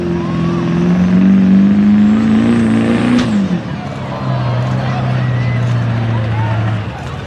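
A drag racing car at the Berryville Spring Nationals accelerates hard, its engine note rising, then drops sharply at a quick gear shift before climbing again in the next gear, loud and close.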